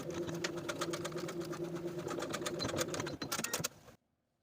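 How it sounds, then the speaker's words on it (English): Sewing machine stitching in the ditch of a skirt side seam to secure elastic, a rapid rhythmic mechanical whir with clicking needle strokes that stops abruptly after about four seconds. "stitch in the ditch of that seam line to secure the elastic in place"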